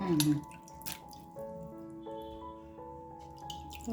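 Water drained from soaked brinjals drips and trickles nearby in a kitchen, a light splashing under a spoken voice.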